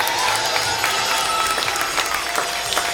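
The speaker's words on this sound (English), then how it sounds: "what do you say about a big round of applause for my ladies in the arena?" A rodeo arena crowd claps for the ladies riding in the ring during an opening ceremony, with dense, sustained applause and faint cheering throughout.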